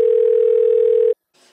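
A steady telephone dial tone holds at one pitch for just over a second, loud and clean, then cuts off abruptly, followed by a faint brief rustle.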